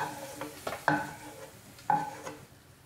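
Fried cashews and raisins lifted out of hot ghee with a spoon, a soft sizzle with two sharper metallic scrapes and scoops, close and quiet with no speech.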